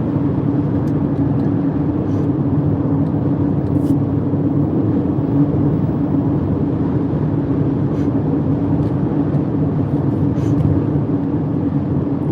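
A car in the high-speed lane gives a steady, loud road and engine drone that holds evenly throughout, with a few faint ticks above it and no talking.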